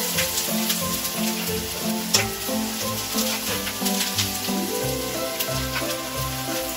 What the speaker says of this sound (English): Continue to cook until the onions get soft.